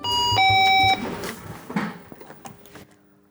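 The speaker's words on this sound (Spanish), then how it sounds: "En caso de incendio, al panel llega rápida la señal de alarma." A fire alarm panel at the Bolshoi Theatre sounds an electronic alarm tone with a steady beep for under a second, then fades into quieter clicks and background noise.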